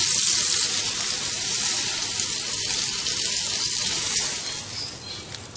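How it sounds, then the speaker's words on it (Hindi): Mutton kebabs fry in hot oil in a karahi, giving a steady, dense sizzle that stays loud and close for the whole stretch, easing slightly near the end, with no voices. "एहतियात के साथ पलटते हुए हर तरफ से इनको फ्राई कर लेंगे।"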